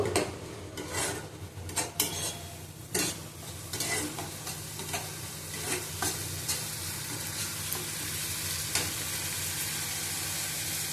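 Potatoes are stirred into a pan of masala, a spatula scraping and rasping in repeated strokes over a low steady sizzle, the scraping busier at first and the frying hiss settling into a continuous bed.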